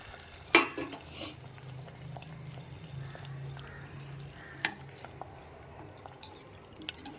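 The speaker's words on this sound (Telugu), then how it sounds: "ఒక్కసారి కలుపుకుందాం." Jaggery water being stirred into rava payasam with chana dal in a pot: a sharp utensil clink at the start, then soft, quiet scraping and swirling over a low background hum, with a few faint knocks later on.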